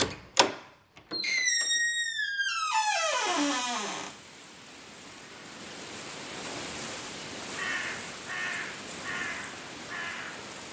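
Crows perched on a ledge caw sharply a few times at the start, then a long rushing noise takes over, with faint repeated calls returning later in the distance.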